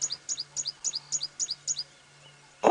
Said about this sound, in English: where's that bird that's calling so close to us? Somewhere in the tree above the leopards